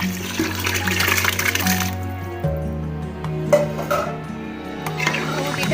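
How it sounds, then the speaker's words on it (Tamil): Water poured into rice for chicken biryani, a splashing pour that gives way to running and trickling water, with kitchen clatter and a brief voice. "அதில் டபுள் அமௌண்ட் தண்ணி ஊற்றிக்கலாம்."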